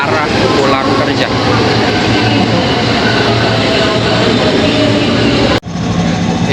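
Steady loud rumble and rattle fill the inside of a moving commuter train, broad and continuous, with a sharp brief jolt near the end.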